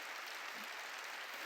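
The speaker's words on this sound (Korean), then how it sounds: "여러분도 할 수 있는 걸 믿으면 박수로 하나님께 영광 돌리고" A church congregation applauds during a New Year's Eve worship service, a brief burst of faint, steady clapping that sounds a little distant.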